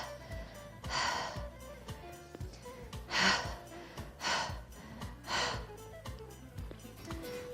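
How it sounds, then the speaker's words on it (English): Sharp forceful exhales during a mixed-format workout, four breathy bursts spaced a second or two apart over a steady rhythmic music bed. "Exhale."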